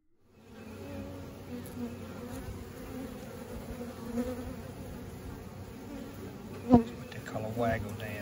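Honeybees buzz steadily at a hive in a soft continuous drone, with a brief louder buzz as a bee passes close near the end.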